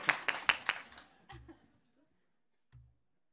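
An audience answers with a short burst of applause: a handful of sharp, separate claps that thin out and stop within about a second, followed by near silence and a soft thump.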